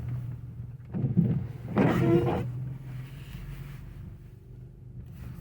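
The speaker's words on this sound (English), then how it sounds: "The feeling and the noise inside of this car, to show you." Low engine rumble and road noise fill the cabin of a BMW E38, with a couple of brief mechanical whirs and thumps rising over the steady drone.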